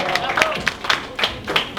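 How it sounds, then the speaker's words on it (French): Audience applause at a charity gala, a short burst of scattered claps from a crowd in a hall, mixed with murmuring voices. "Je vous prie d'applaudir, s'il vous plaît."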